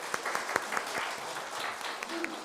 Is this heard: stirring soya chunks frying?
no